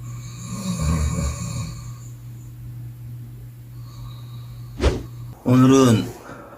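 A tired sleeper snores after drinking a can of beer: a softer rasping snore early on, then a brief snort and a loud, close, drawn-out snore near the end, with quiet breathing between.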